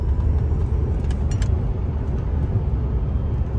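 A prototype 2015 Tesla Model S tri-motor electric car accelerates hard in cold weather, giving a loud, steady low rumble of road and motor noise throughout with no talk over it.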